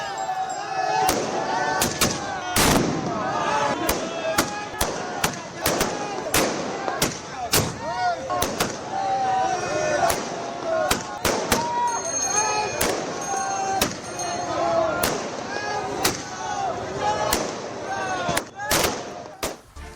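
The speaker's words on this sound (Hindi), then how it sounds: "लेकिन यहां पर अयोध्या में आतिशबाजी हो रही थी।" Fireworks crack and bang in rapid, irregular bursts during a Shaurya Diwas celebration in Ayodhya, sharp loud reports repeating for twenty seconds over a murmur of crowd voices.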